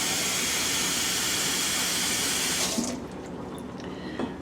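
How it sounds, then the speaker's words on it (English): Running tap water pouring steadily into a small pot, a dense hissing rush that suddenly stops, followed by faint drips and small clinks. "I'm gonna get this small pot of water ready."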